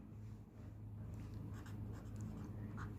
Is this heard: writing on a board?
yes